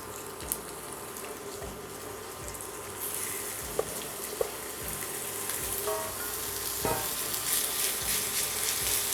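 Beef pieces searing in a smoking-hot pan, a steady close sizzle and crackle running throughout with a few soft clinks and stirring sounds, no talk.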